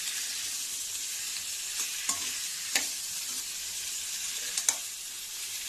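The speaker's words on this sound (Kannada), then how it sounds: "ಹಾಗಾಗಿ ಸ್ವಲ್ಪ ಫ್ರೈ ಮಾಡೋಣ." Ingredients for Mangalore-style cucumber sambar fry in hot oil, a steady soft sizzle broken by a few sharp clinks and scrapes of the stirring spoon, close by and with no talking.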